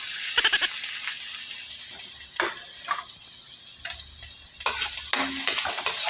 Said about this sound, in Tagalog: brown na po yung mga bawang, sibuyas at luya natin